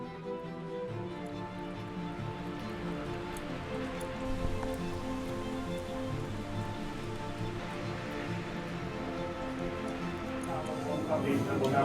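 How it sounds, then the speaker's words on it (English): Steady rain falls on a snowy Alpine mountain route in July, a continuous dense patter that stays even and moderately loud throughout, with some faint background sounds layered in. "it started raining again"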